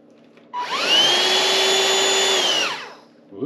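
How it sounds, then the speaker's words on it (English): A new Gtech cordless vacuum cleaner switches on with a sharp rise into a loud, steady high-pitched motor whine, holds for about two seconds, then winds down, heard close and alone. "This is the vacuum cleaner itself."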